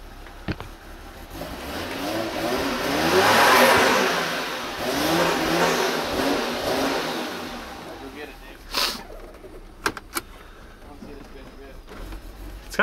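A car fitted with a new intercooler accelerates on a test drive, the engine swelling steadily and then easing off as it cruises, followed by a few sharp clicks, under occasional speech.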